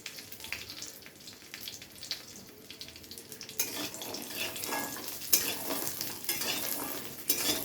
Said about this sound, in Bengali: তো বড়িগুলোকে লাল লাল করে হালকা করে ভেজে নিচ্ছি।